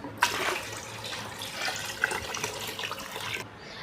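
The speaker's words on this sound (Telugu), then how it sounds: "ఇప్పుడు మనం ఈ వాటర్ని ఇందులోకి యాడ్ చేసేసుకుందాం" Water pours and splashes into a container holding rice water, in a continuous, fairly quiet stream that cuts off abruptly.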